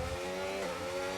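Simulated Formula 1 cars, including a Red Bull, race through the opening corners at Silverstone in a racing video game, a steady loud engine whine holding throughout with slight pitch shifts.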